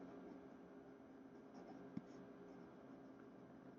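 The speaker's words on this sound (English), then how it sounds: "When you go down low, it just glides across the paper." Sailor 1911 fountain pen with a fude nib writing on paper, a soft continuous scratchy glide of nib on paper under steady background hiss, with a single brief tap partway through.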